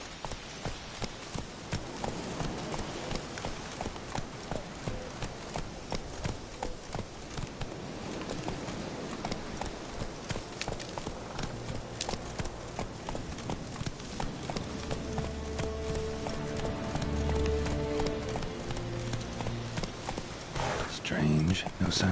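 Roach, the horse in The Witcher 3, gallops with a fast, continuous rhythm of hoofbeats across the whole stretch, joined late by spoken dialogue and game music.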